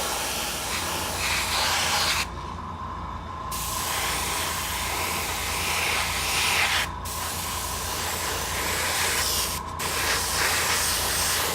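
An airbrush sprays paint onto the armor of a model Thunderhawk gunship, giving a soft, steady close-up hiss that stops briefly three times before resuming.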